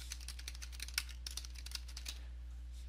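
Someone types on a computer keyboard, a quick run of soft, close key clicks under a low steady hum, with no one speaking.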